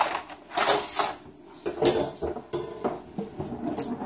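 Cutlery clatters and clinks as a knife is fetched from a kitchen drawer, a run of close metallic rattles and taps with brief pauses between them and no talking.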